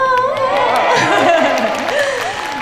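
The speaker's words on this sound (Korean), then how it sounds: "그러니까 박수도 좀 많이 쳐주시고 소리도 좀 많이 질러주시면 감사할 것 같습니다" Outdoor winter night concert crowd in Hongcheon applauds and chatters, a steady, loud wash of clapping and murmuring voices with some laughter mixed in.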